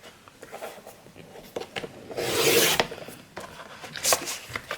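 Paper being cut for a handmade scrapbook album: soft rasping and rubbing strokes, with one longer, louder swishing cut in the middle and a shorter one near the end, close by and alone.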